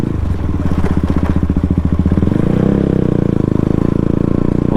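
A KTM RC 200 motorcycle engine at night, a close, loud, rapid pulsing firing beat with clattering as the rider eases off and settles into a steadier lower drone.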